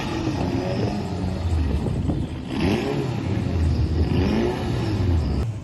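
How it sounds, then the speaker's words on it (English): A drag racing car launches at Santa Pod with wheelspin, its engine roaring loudly and rising in revs, heard from nearby. "Oh, blew the tyres off the line though."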